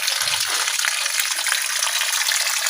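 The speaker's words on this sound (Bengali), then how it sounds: "তার মধ্যে পানি দেওয়া হচ্ছে পানি দিয়ে পরিষ্কার করা হচ্ছে" Water gushes and splashes steadily as cattle are washed, loud and close, a continuous rushing spray with no voices.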